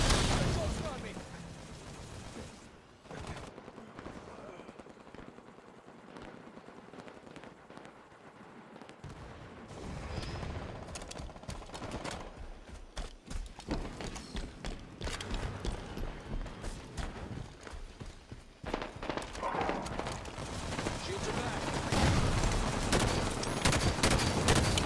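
Dense, rapid bursts of gunfire and booming grenade blasts fill a Halo 5 multiplayer match, swelling louder toward the end, with game voice announcements mixed in.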